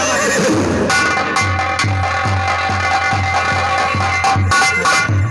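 A horse neighs over a steady, rhythmic backing of low drumbeats and sustained musical tones, part of a stage theatre drama in which horses are readied for a minister's journey.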